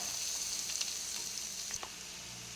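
Sliced onions go into hot coconut oil with ginger and garlic, giving a steady, close sizzle with a few light clicks and scrapes as they fry.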